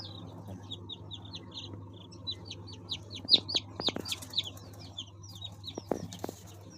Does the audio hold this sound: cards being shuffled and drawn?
no